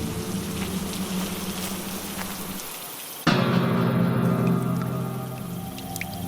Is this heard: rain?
yes